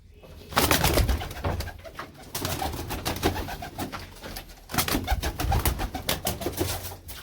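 Pigeons coo in deep, repeated throaty bursts close by, with brief pauses between phrases and no talking.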